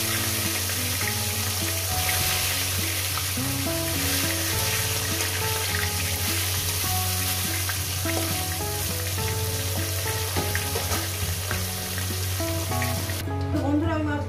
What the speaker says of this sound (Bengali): কাটা মাছগুলোকে ভেজে নিলাম।